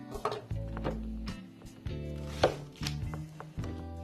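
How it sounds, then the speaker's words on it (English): An onion being chopped on a board, a series of knife strokes in uneven bursts, each a dull thud with scraping between, close and moderately quiet, no voices. "all you do is chop your onion up"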